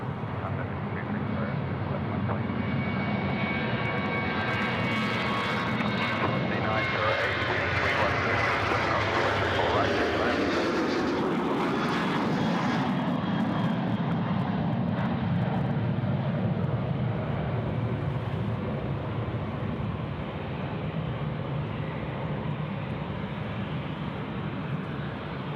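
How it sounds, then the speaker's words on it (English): A Qantas Boeing 737 jet rolls for takeoff on runway 34 right at Sydney Airport, its engines swelling to a loud, sustained roar that sweeps past and stays strong, with people talking over it. "We've got Qantas 504 now off to Brisbane, starting to roll."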